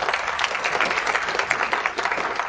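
An audience at a Temple Terrace candidate forum applauds for first responders, a dense patter of many hands clapping steadily and close, with no talk over it.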